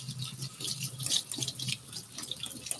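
Cold tap water runs and splashes over cooked soba noodles in a sink, a close, uneven rushing stream that rises and falls throughout, with no voices.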